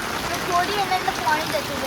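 Steady rain falling during a downpour, with water running and flowing nearby, a continuous wash of hiss and trickle filling the background while a voice talks over it.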